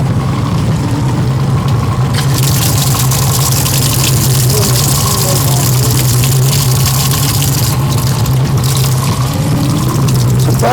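A live-well pump on a 2004 Sea Pro 206CC center-console boat runs steadily as water fills the live wells, a constant low hum under a broad rushing wash that grows stronger after the first couple of seconds.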